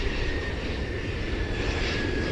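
A loud, steady airplane engine roars continuously at DFW airport, a broad rumbling drone with no voices.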